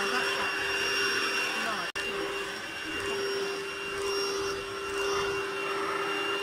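A Lidl Hoover cordless vacuum cleaner runs steadily over carpet with a loud, constant whine and a brief cut-out partway through, then resumes its continuous drone.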